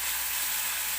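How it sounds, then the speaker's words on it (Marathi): Tomato fries in hot oil as the start of a Maharashtrian potato curry, giving a brief, even hissing sizzle close by with no talk. "तर व्यवस्थित आपल्याला तेलामध्ये टोमॅटो सुरुवातीला भाजून घ्यायचा आहे."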